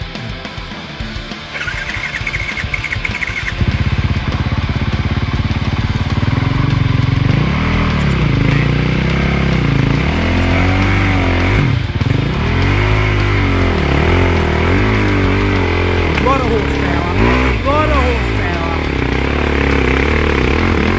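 A 450 dirt bike engine climbing a hill, revving hard and continuously, its pitch rising and falling through repeated throttle surges, loud and close for the whole stretch.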